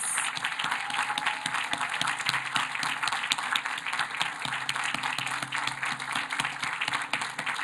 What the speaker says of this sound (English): Please join me in giving the finalists a round of applause.